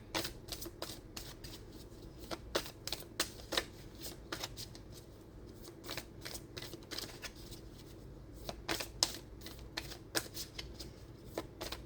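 An oracle deck of spiritual-connection cards riffled and shuffled by hand: rapid, close flapping bursts in quick uneven runs, steady throughout with brief pauses and no voices.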